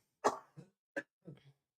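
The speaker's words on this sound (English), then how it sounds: "I've got a cough." A few short, dry coughs close up, one sharp hack followed by two or three smaller ones, with quiet gaps between them.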